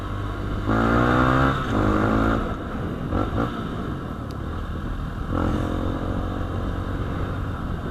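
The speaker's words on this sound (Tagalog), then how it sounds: "yan yung sound ng ating pipe after nating tanggalin yung silencer nya dun sa mid pipe bago pumunta ng slip on dun sa dulo" A Honda CRF150L motorcycle fitted with an Exos R6 exhaust, mid-pipe silencer removed, revs in two loud rising bursts, idles with a raspy burble, then revs once more, close by and without talk.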